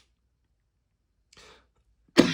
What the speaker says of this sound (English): it hurts when I cough